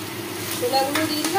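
Chickpeas tipped into a pan of frying spice paste for chana masala, giving a close, steady sizzle with stirring scrapes over a short burst, and a voice faintly present.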